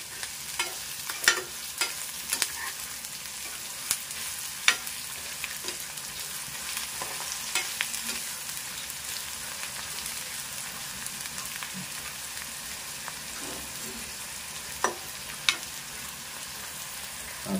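Onions frying in hot oil produce a steady, close crackling sizzle, broken by occasional sharp pops and spatula scrapes as they are stirred, with no talking.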